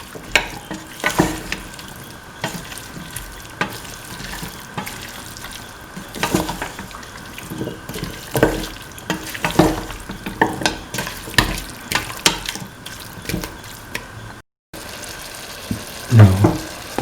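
Beef, potatoes and other ingredients stirred and frying in a pan, with scraping spoon strokes over a steady sizzle and occasional watery splashes, close and continuous with brief pauses.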